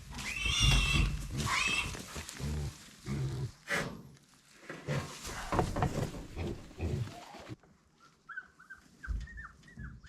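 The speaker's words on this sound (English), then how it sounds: "Say hello to the piggy." A pig on a farm gives snorts and grunts alongside bird-like squeals and whinny-like calls, close and fairly loud, with a brief quieter stretch near the end.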